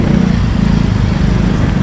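Motorcycle engines drone loud and close in slow traffic, a continuous buzzing rumble with slight fluctuations and no speech.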